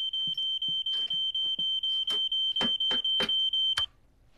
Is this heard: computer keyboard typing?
no